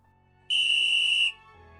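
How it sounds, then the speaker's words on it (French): A single shrill, sustained whistle blast of under a second sounds clearly as a deportation train halts in a dramatized scene, followed by a low rumble. "On entend un sifflement."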